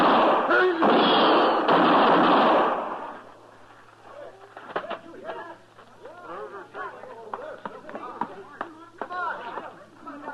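A loud, roaring burst of gunfire opens, then sharp cracks ring out now and then over murmuring voices.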